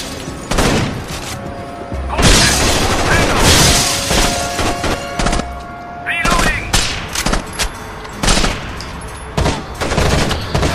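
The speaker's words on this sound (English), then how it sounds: "There's a scumbag shooting at me" Rapid video-game gunfire from Rainbow Six Vegas 2, with repeated bursts and single shots crackling loudly across a busy firefight, plus a few explosive booms and sharp impacts layered throughout.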